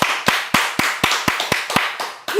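A church congregation clapping in unison during a Korean sermon, about ten sharp, evenly spaced claps in a steady rhythm, loud and close.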